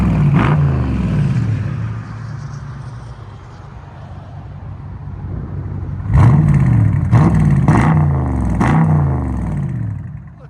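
A 2021 Dodge Charger 392 Scat Pack with its Hemi V8 and Carven R-Series exhaust revving, a deep rumbling idle broken by one early blip and then four sharp, loud throttle blips in quick succession, close by.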